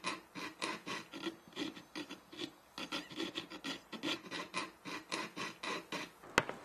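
A small saw cuts a piece of red copper for a jeweler's ring in steady back-and-forth rasping strokes, close and fairly quiet, roughly two strokes per second, ending with a single sharp click.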